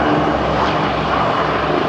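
P-38 Lightning twin propeller warplane passing overhead at the ILA Berlin 2018 airshow, a loud, dense engine drone that fills the short moment without letting up.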